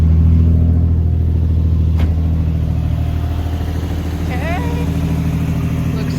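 A project car's engine idles steadily in a garage during a test, a constant low rumble close by with someone talking over it.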